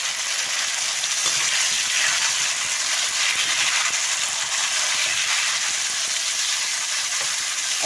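Tomatoes go into browned onions frying in a pan for a spiced vegetable rice dish, producing a loud, steady, close sizzle and hiss that carries on unbroken with no talking.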